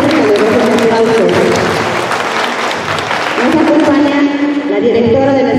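Sustained applause from an audience at a preschool graduation ceremony, steady and fairly loud throughout, with a voice speaking over the clapping.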